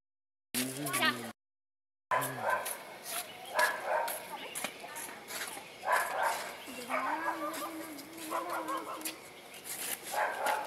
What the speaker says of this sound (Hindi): यहाँ पे कुत्ते आ चुके हैं